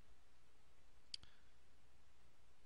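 A single sharp mouse click on an eBay item, isolated against a steady low background hiss.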